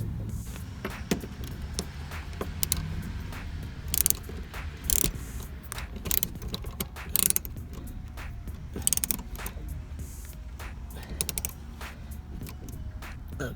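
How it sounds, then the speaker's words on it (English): A torque wrench tightening a car's emergency brake: a run of quick mechanical ratcheting clicks in short bursts, with sharper louder clicks every second or so, close by and without talk. "This is a torque wrench."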